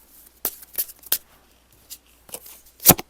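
Tarot cards are drawn and handled in a quiet room, giving sharp papery flicks and slides, about six short bursts spaced irregularly, with the loudest near the end. The sound is close, with no talk.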